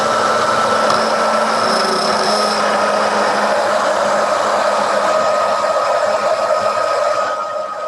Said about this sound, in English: I'm going to go ahead and hit it with a hairdryer one more time.